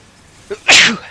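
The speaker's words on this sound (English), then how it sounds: "Oh, I'm gonna sneeze." A single loud, close sneeze from a person, preceded by a brief catching inhale and ending in a sharp burst of breath.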